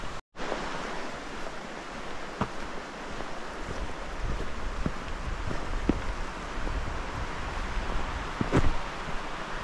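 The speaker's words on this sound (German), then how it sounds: "jetzt zieht hier so ein bisschen Wind auf und es ist stockduster geworden" Wind picking up in a Swedish forest in autumn as rain approaches, a steady broad rushing roar with some mic buffeting and a few soft knocks, continuous and fairly loud, with no talk.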